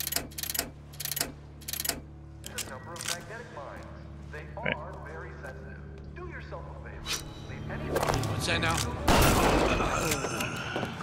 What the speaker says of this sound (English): See, that's how shotguns are supposed to work